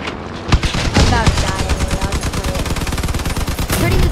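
Rapid bursts of automatic gunfire from vehicle-mounted weapons in the combat game Crossout, loud and continuous with dense rattling volleys and scattered impacts, no talk heard.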